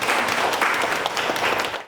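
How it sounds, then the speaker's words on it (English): Steady audience applause at an art community event in Honolulu, a dense patter of many hands clapping together for the judges, close and continuous throughout. "can we just give a round of applause for our three judges?"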